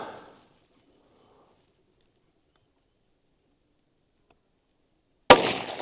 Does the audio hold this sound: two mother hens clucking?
no